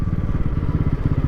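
A motorcycle engine idles close by with a steady, throbbing low pulse while the bike is parked near Shivanasamudra falls on the Kaveri river, with no talk over it.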